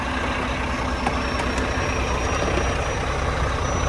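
A truck engine idles steadily with a low, continuous rumble and a faint high whine, heard close and alone during an exterior vehicle inspection just before shutdown.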